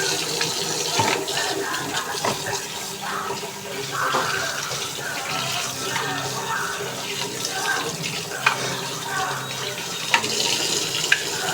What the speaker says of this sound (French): maintenant, nous, ça passe au lavage de la brosse